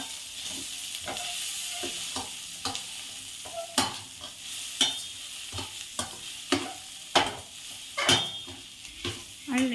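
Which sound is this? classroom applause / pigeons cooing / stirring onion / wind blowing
stirring onion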